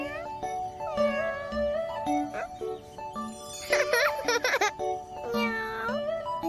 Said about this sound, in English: Cats say meow, and they purr.